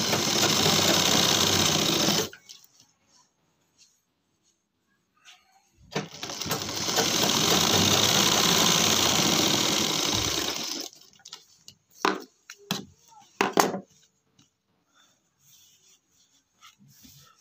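Sewing machine stitching a seam along the edge of a pant waistband belt, running in two steady whirring bursts with a pause between, followed by a few quiet clicks and handling taps.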